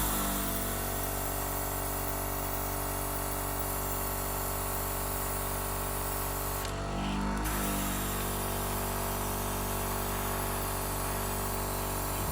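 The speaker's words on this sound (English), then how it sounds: "I'm just going to spray a little bit of green out." Spray can or airbrush misting green camouflage paint onto a 1/72 scale vintage model: a steady, close hiss running throughout with a brief change midway, no talking.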